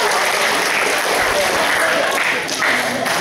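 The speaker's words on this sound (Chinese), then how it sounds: "我们现在掌声鼓励欢迎他。" A junior high school audience in Taiwan claps steadily to welcome a pharmacist giving an anti-drug talk. The applause is dense and loud, and it fills the whole moment.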